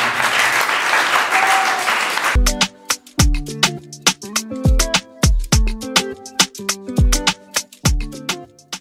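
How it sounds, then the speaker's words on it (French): Gala audience applauds school children with a brief burst of clapping that ends abruptly, then gives way to a loud, rhythmic musical passage with strong repeated beats. "nous pouvons les applaudir, on ne les a pas vraiment applaudis"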